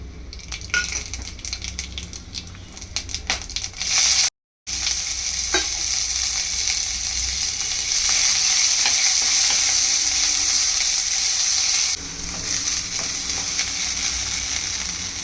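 Onions fried with masala in about two tablespoons of oil in an AMC Cookware pan, giving a loud steady sizzle with occasional utensil clinks and a brief cut partway through.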